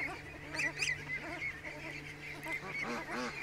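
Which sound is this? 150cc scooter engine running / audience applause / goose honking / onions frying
goose honking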